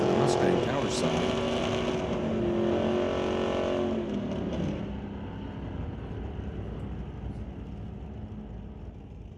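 Drag race cars, an '81 Camaro and a Mustang, roar off the line together, loud engines howling and revving before the sound fades slightly as they pull away down the track.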